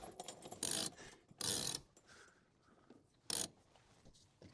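Ratchet on a sailboat winch aboard a Colvic Watson 25.6 motorsailer, three short bursts of rapid clicking separated by quiet pauses, close and fairly faint.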